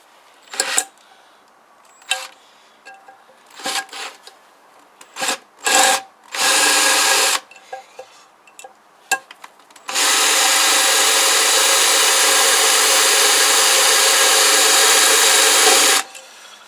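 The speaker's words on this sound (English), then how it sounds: "can't even drill into the fucking things" A power drill whines in several short bursts while drilling into the metal of a Kawasaki GPZ500S engine, then runs in one long, loud, steady grind for about six seconds before stopping.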